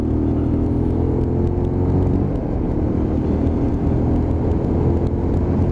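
A Lexmoto LXR 125 motorcycle engine drones steadily during a ride test, with a close, continuous, buzzy hum and some wind rumble and no talking.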